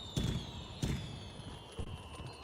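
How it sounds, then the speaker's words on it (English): Fireworks popping in the Monster Hunter World video game, three soft distant bursts spaced roughly evenly over a steady background hum, faint overall. "Look, they're setting off fireworks for my victory over Paolumu"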